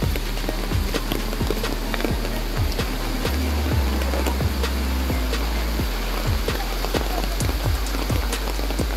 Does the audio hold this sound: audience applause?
no